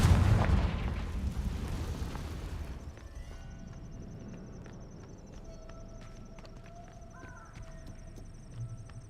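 Spell explosions from the Confringo fire spell in the video game Hogwarts Legacy, a loud booming burst at the start that fades into quieter game ambience with faint magical tones.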